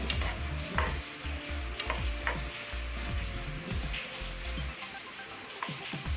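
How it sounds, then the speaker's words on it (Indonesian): Noodles being stirred in a pan of oil until they turn soft, with a steady low sizzle and repeated scraping strokes of the stirring utensil against the pan, close and moderately loud. "Kita aduk-aduk lembek."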